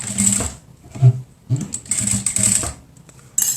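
Sewing machine stitching and backstitching over elastic on a cloth face mask, heard as short, close mechanical whirring bursts separated by brief pauses.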